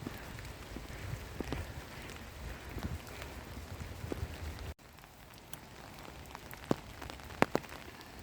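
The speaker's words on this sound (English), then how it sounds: "Just the two of us walking in the rain." Steady rain falls in a park, a dense hiss of drops on the ground with a few sharper, louder drops close by toward the end; no talking.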